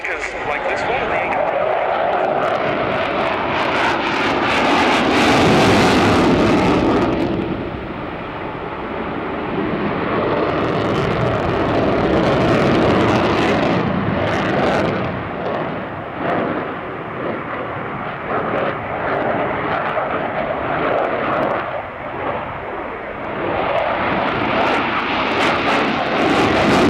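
Sukhoi Su-27 Flanker jet of the Ukrainian air force roaring with a loud, sustained engine rumble that swells, briefly dips and builds again, with a voice talking over it throughout.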